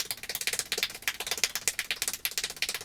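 Extremely fast hand clapping at world-record pace of about 1020 claps per minute, a dense rapid rattle of sharp slaps in steady rhythm, close and alone.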